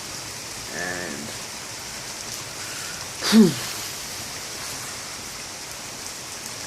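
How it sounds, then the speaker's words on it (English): Heavy rain falls steadily as a constant hiss, with one person speaking briefly near the start and a short louder burst partway through. "it's just really heavy rainfall down here."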